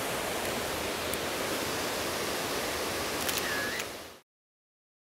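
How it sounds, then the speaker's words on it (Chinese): Seven Fairies waterfall in Du'an, Guangxi, a steady broadband roar of falling water heard close, with a faint whistle-like tone near the end before the sound cuts to silence. "我们就在这个七仙女的瀑布下呢多多感受一下"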